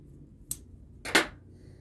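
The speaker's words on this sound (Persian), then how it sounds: "بعد میای این ته نخ رو قیچی میکنی و انتهای موت هم یه حدودی قیچی میکنی." Scissors snip through the thread end of a hair extension and trim the synthetic hair tip: two short, crisp cuts about half a second apart in an otherwise quiet room.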